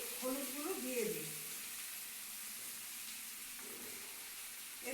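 Rice fries in oil in a pan as turmeric goes in, giving a soft, steady sizzle close by. A voice talks briefly at the start.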